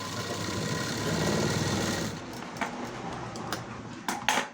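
Sewing machine stitching lining onto a garment front, a rapid mechanical whir for about two seconds, then quieter handling with a few light clicks and taps, fairly faint.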